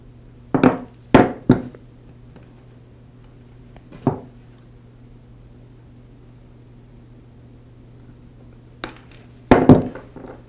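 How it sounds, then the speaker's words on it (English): Switch wire leads for a router are snipped to length, a handful of short crisp cutter clicks in clusters, close and distinct over a quiet steady hum. "To modify my new switch to fit my router, I'll first cut the wire leads to length."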